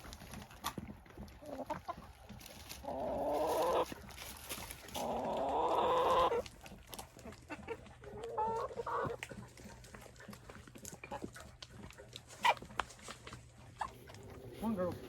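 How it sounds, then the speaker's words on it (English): Free-range chickens out foraging on a rainy evening cluck intermittently, a few louder bursts standing out over a background of moderate speech and soft ambient noise. "We'll let the chickens free range for a little while this evening."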